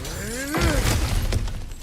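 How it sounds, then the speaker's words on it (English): A heavy shattering crash as cracked ground is smashed through in God of War Ragnarok, one loud burst of breaking debris that rumbles and settles over the next second, with a faint second impact after. "Ah, back to smashing through things for fun and profit"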